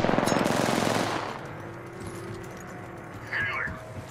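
Rapid automatic gunfire in a video game, a loud dense burst of shots for about a second that then drops away to a quieter background with faint clinks.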